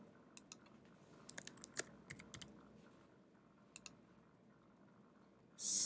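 Computer keys click quietly in small scattered bursts while a city name is entered into a spreadsheet cell, with faint room noise underneath.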